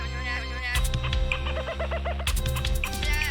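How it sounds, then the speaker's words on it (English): Bird noises in the opening song of a wildlife show about the USA: clucking, rooster-like calls and chirps set over music, with repeated tonal bird-like phrases and a steady backing bed throughout. "there's a new intro and a new opening song, and it's sort of like bunch of bird noises"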